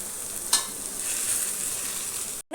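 Petha halwa with mava and nuts is stirred and roasted in a pan over a medium flame, a steady soft sizzle with a short scrape of the spoon, close and quiet, cutting out abruptly near the end.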